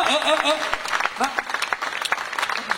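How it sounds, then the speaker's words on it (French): Audience applause for a singer at a French singing contest on stage in Beaucaire, fairly loud clapping with talk and a voice over it, under three seconds long. "on applaudit très fort, Lauriane"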